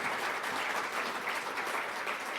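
An audience at a patient-focused meeting applauds a panel, an even, continuous patter of clapping heard at a moderate distance, with no voices over it.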